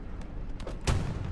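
A Panther tank fires its main gun in a World War II battlefield game, one heavy boom near the end after a couple of softer distant thumps. Loud and close, with no voices.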